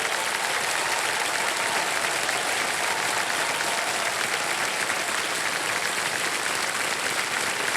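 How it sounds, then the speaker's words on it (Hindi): Dense, continuous studio audience applause on the KBC quiz show set rewards a contestant's winnings, a thick even wash of clapping that holds at constant loudness throughout. "ताली बज जाए इनके लिए।"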